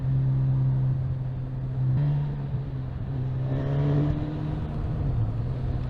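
A Suzuki GSX-S1000 motorcycle engine drones steadily at low gear on the road, swelling briefly as the revs rise partway through, with wind rush in the background.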